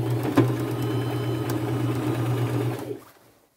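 A sewing machine runs a continuous straight stitch, fastening an applique onto a denim skirt, with a steady mechanical hum and rapid needle rhythm that stops abruptly near the end.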